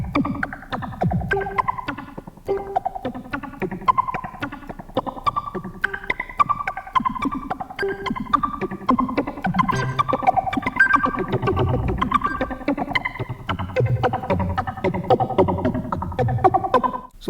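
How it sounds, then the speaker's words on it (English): Studiologic Sledge 2.0 synthesizer playing a percussive patch with short decay and some resonance, giving a steady run of clipped, plucky notes with effects-laden tails, loud and continuous with no talking. "Maybe I want a very short decay even, so I can make a very percussive sound."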